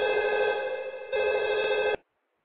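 A telephone rings with an incoming call to a horror talk radio show, a bright electronic ring in two bursts before cutting off abruptly into silence.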